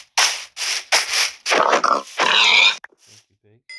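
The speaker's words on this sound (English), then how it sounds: "Look for the pig." A pig in the Minecraft video game grunts in a few short, close bursts, a rough, snorting series that takes up most of the brief moment before it falls quiet.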